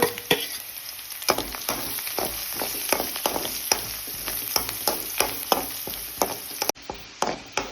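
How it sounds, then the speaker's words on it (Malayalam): Mustard seeds, garlic and curry leaves fry in hot oil for a prawn pickle, giving a steady close sizzle broken by sharp pops and spatters throughout, with no voices. "നമുക്ക് കടുക് ഇട്ട് കൊടുക്കാം. ഇതിലേക്ക് നമുക്ക് വെളുത്തുള്ളി ഇട്ട് കൊടുക്കാം, കരിയാപ്പില,"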